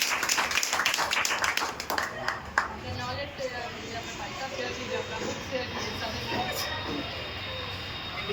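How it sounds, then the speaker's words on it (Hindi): A crowd at the Mission Parivar club's Independence Day celebration claps briskly for about two seconds, then the clapping gives way to steady chatter and a speaker's voice. "तो आइए हम लोग के बीच ताली बजाइए"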